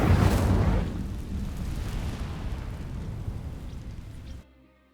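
In Hogwarts Legacy, the Incendio fire spell opens with a loud, explosive burst, then a steady roaring whoosh of flame for several seconds before it cuts off abruptly.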